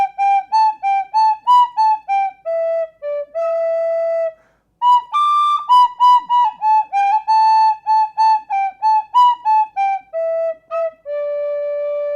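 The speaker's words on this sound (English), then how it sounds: "that is the Sandri D10 whistle" A Sondri D10 tin whistle plays a bright, lilting melody alone, with clear sustained and quickly tongued notes and a brief pause partway through.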